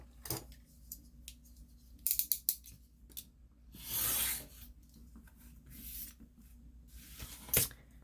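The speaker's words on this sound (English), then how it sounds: "we'll cut it 3 inches wide" Material is cut to three inches wide, with quiet scissor snips and rubbing, scraping handling sounds in short bursts and one longer rasp, close and faint with no speech.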